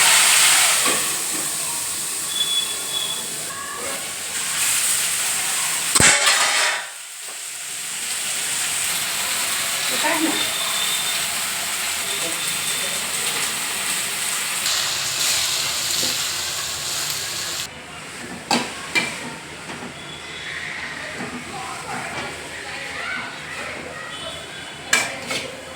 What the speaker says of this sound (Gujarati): હવે આપણે ભાજી વઘારીશું.